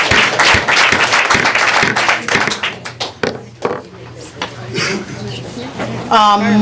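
Audience applause at a Pacifica school district board meeting, a loud burst of clapping from a room of people that thins out into scattered claps over a few seconds.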